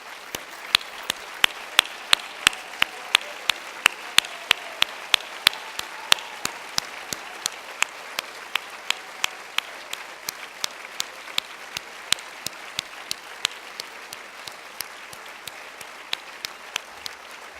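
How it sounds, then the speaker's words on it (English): An audience at an awards gala applauds to honour people for their commitment to women and girls. The clapping is sparse and scattered, with distinct sharp claps spread evenly over a quiet room tone. "please stand up so that we can recognize and applaud your commitment to women and girls once again"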